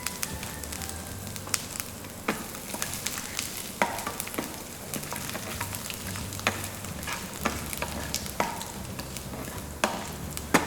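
Chopped ginger sizzles in a hot pan for sweet tomato chutney, with a constant frying crackle and repeated sharp scrapes and clicks as it is stirred.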